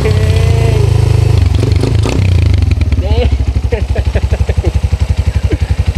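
A Suzuki Thunder 125 motorcycle engine fitted with a new muffler roars loud and close, revving hard before settling into a rapid, throbbing idle-like putter, with voices talking over it.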